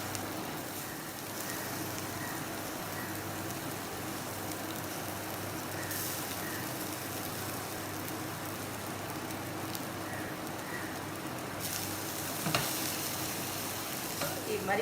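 Cooked rice is gently mixed in a pan with half a spoon of garam masala, using a wide ladle. A low, even sizzle runs throughout, with soft scraping and stirring.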